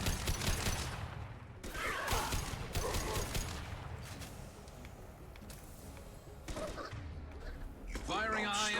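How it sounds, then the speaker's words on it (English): High-impact weapon shots in the video game Mass Effect 2: a string of loud, cracking blasts and mechanical clanks at close range, with a voice speaking briefly near the end. "Firing a high-impact shot."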